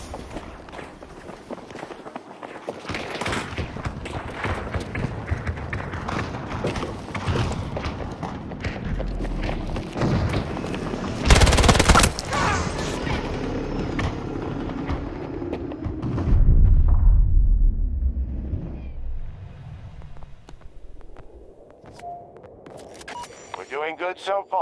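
Frag grenade blast and gunfire in the Battlefield video game, a sustained roar of battle noise with a sharp mid-clip explosion peak, heavy rumbling and voices talking over it.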